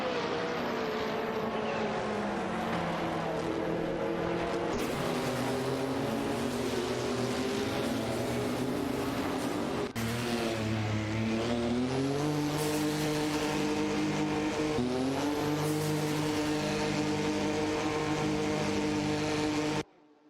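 Race cars in an AI racing video game, several engines droning and shifting pitch as they run close together, a steady loud layered whine with gear changes and no talk.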